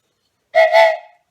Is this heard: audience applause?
no